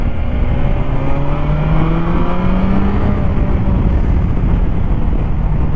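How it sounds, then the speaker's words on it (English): A 2020 BMW S1000XR motorcycle engine drones steadily and loudly throughout, its pitch climbing slowly as it revs, with a continuous throaty airbox intake rumble and wind buffeting. "you get a beautiful sound out of the airbox on the S1000s"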